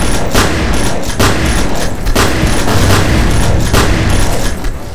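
Gunfire in an online shooter game on a cramped map, heavy and rapid, loud overlapping shots and booms firing almost continuously with no pauses.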